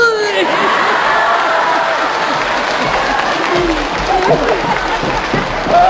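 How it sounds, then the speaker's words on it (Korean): Audience applause at a Yanbian TV comedy skit, steady dense clapping throughout with a few cheers and voices mixed in, loud and sustained. "또 박수!"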